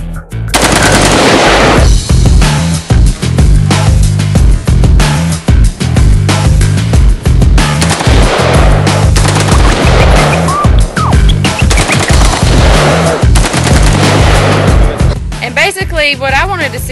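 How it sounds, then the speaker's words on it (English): Rifle with a Slide Fire bump-fire stock, shot from the shoulder in rapid, nearly continuous strings of loud, close gunshots that go on almost without a break, with a voice heard faintly under the firing. "basically what this does is you put it up to your shoulder and it allows you to recoil and bump fire from your"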